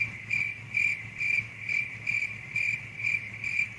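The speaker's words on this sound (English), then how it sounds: "The good old crickets." Crickets chirp steadily in short, evenly spaced pulses, about seven bursts in a row, faint and distant over a low background hum.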